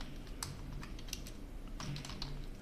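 Fast, light clicking of keys on a computer keyboard while Python code is typed, a quiet, irregular patter of keystrokes close by with no talking.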